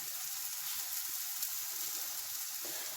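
Baby potatoes with skins and eggplant frying in a little oil, a continuous close hiss and sizzle with fine crackling, steady and even throughout.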